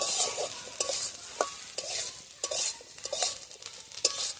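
A spoon scrapes and stirs in a pan in short, irregular strokes over a soft, steady sizzle of frying, while cooking spring-onion egg bhurji.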